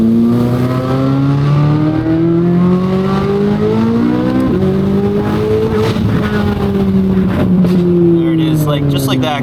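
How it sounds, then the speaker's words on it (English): A Corvette C8 Z06 engine revs up and down under repeated throttle blips around 4,000 to 5,500 rpm, loud and close, with sharp exhaust pops and crackles bursting out as the revs fall. "Trick you can do if you just want to hear pops and crackles"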